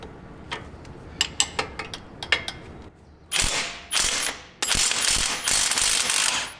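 A pneumatic-style impact wrench works on a stubborn bolt opposite a 19mm nut, first a few sharp clicks and ratcheting ticks, then loud sustained bursts of rapid hammering in two long runs, close by with no talk.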